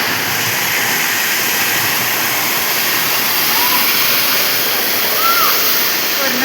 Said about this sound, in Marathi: वरनं पाणी पडते.